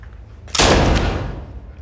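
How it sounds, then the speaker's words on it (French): A single loud, close gunshot from a grandfather's carabine rifle cracks out abruptly and then decays in a long rumbling tail, with no talking. "On doit presque être surpris par le départ du coup de feu."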